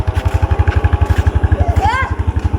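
A motorcycle engine putters with a fast, even low throb, close and loud as if heard from the rider's seat. Voices talk over it throughout.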